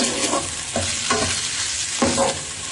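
Chicken stir-fried for Chinese-style chicken fried rice: a loud, close sizzle broken by a few sweeping scrapes of the spatula tossing and mixing the pieces, with no voices.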